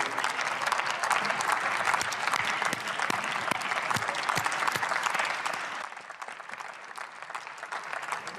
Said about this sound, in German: da gibt es jetzt Applaus hier aus dem Deutschen Bundestag, fraktionsübergreifend